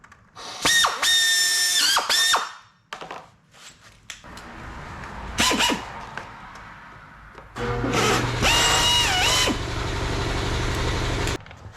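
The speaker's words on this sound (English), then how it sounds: "I'm just going to do a couple step up bits and try to get this clean opened up" A power drill with a step bit bores out a punched hole, with several loud whining bursts of drilling separated by quieter pauses and a longer final pass, close and alone.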